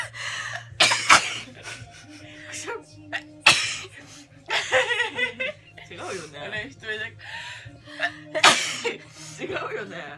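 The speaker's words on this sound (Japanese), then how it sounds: "くしゃみ出た。" Sneezes brought on by tickling the nose with a twisted paper string burst out as several sharp, loud blasts, mixed with laughter and chatter from people talking throughout.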